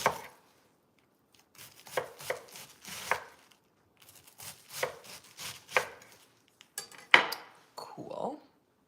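A sharp knife chops food on a cutting board in irregular bursts of quick taps, mixed with light clinks of dishes and cutlery nearby and faint background voices.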